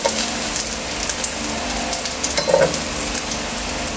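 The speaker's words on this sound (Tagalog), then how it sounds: "Lightly brown na yung chicken" Chicken browning in a pan, a steady close sizzle of frying with a brief louder crackle partway through, no voices.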